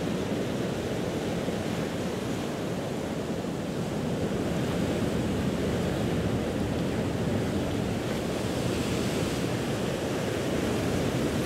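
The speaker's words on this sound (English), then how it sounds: "guide you closer to the sound of the crashing waves against the beach in the" Ocean surf washes onto a beach in a steady, low rushing roar that swells gently, heard from a distance with some wind and no voices.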